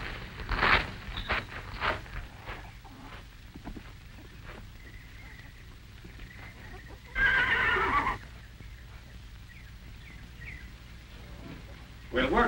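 A horse whinnies loudly near the start and again midway, a long shrill neigh, with soft hoof clops and scattered birdsong between; a voice speaks briefly.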